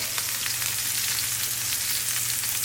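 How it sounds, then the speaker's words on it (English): Steak searing in a hot pan, a steady bright crackling sizzle heard up close, with continuous fine spitting and popping and no talk. "you want your steak to get a nice crispy sear on it"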